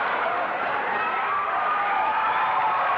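A wrestling crowd at a 1992 NEWF match cheers and roars in a steady, dense wash of voices that holds at full level without a break.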